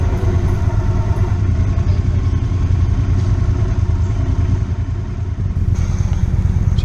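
Several motorcycles idle and pull away together, a loud, close, continuous rumbling engine drone with a slight dip and change partway through.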